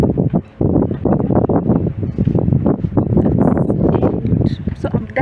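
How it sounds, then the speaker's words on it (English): Strong wind buffets the microphone in continuous rough gusts, a loud roaring rumble with no pauses throughout. "This place can be so windy sometimes"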